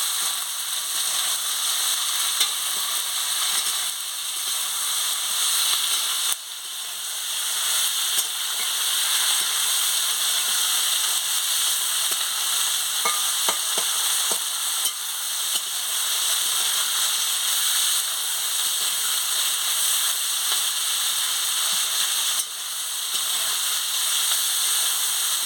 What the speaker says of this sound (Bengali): হলুদের গুঁড়ো দিয়ে দিচ্ছি, মতো নুন দিয়ে দিচ্ছি, ভেজে নিচ্ছি।